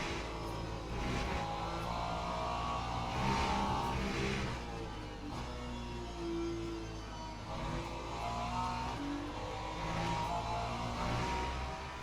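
Race cars, including hypercars, run in the Le Mans Ultimate endurance racing game, giving a steady engine drone with shifting pitch as cars pass, continuous and moderately loud with no talk.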